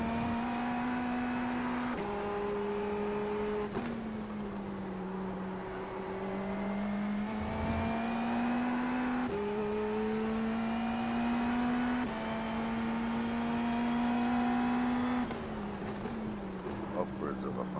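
An IndyNXT open-wheel race car in the iRacing simulator, at Autodromo Hermanos Rodriguez, holds a loud, steady high-revving engine note whose pitch climbs and drops sharply with each gear shift throughout.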